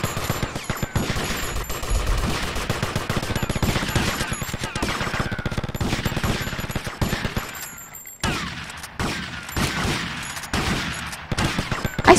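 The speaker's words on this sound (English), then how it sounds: "Stop shooting at me." Rapid gunfire in GTA Vice City multiplayer crackles in dense automatic bursts, loud and continuous, with a short pause before more shots resume.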